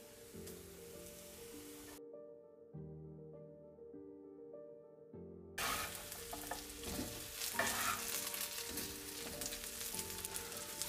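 Potatoes frying with tomato paste in a pan are stirred, giving a steady sizzle and scraping under background music that drops out briefly, then returns louder.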